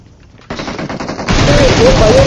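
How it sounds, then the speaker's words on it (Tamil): Loud bursts of rapid automatic gunfire from a gun in a squad video game, starting sparse and then becoming a dense, sustained volley. "ஒரு கன்ல சுடு"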